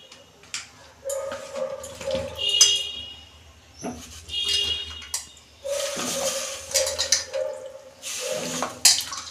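Water poured into a pot of washed flat beans and tomatoes in a home kitchen, a splashing, gushing stream that comes and goes in several bursts over about nine seconds, with faint background noise.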